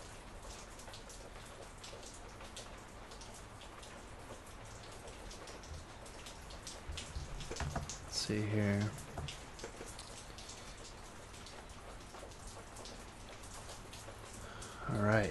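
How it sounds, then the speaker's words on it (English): Rain falling outside on the California coast, a steady soft patter heard from indoors, with someone speaking briefly and a few louder thumps over the continuous hiss. "You can probably hear the rain outside today."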